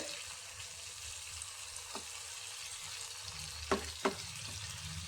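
Fish frying with tamarind in a pan makes a soft, continuous sizzle, broken by a few sharp clinks or scrapes toward the end as it is turned; fairly quiet, with no talking.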